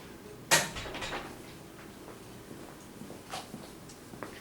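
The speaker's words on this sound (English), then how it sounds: "I'm just going to close the door so we can hear you better." A door shuts with one sharp close-up thud and latch click, followed by quiet room tone with a few faint knocks and shuffles.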